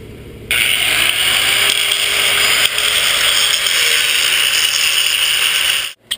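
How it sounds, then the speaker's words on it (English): An angle grinder cleans off metal frame tubes for a Crown Victoria front suspension swap onto an F100, giving a loud, steady high-pitched whine close by that starts abruptly and cuts off near the end. "Brian's over here, he's grinding on these tubes here, and he's going to show you how you just clean them off."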